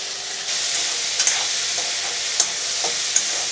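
Chopped onion and tomato frying in a pan over golden urad dal, a loud continuous sizzle with a few sharp spatula scrapes against the metal, no voices.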